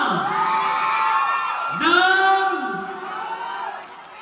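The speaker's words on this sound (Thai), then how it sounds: "ถ้าเราพร้อมขอเสียงกรี๊ดกันได้อีกครั้งหนึ่งนะ" A wedding crowd screams and cheers loudly and continuously, with shrill rising whoops swelling partway through before slowly fading.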